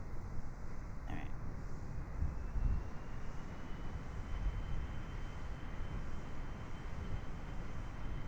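A small plane's engine in the video game Kerbal Space Program drones as a steady, broad roar throughout, fairly quiet, with no talking.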